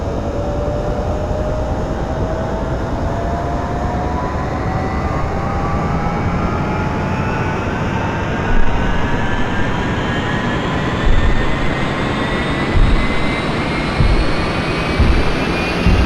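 A video-game Huey helicopter turbine engine spools up steadily during startup, its rising whine climbing in pitch over a constant roaring hum, with no voices.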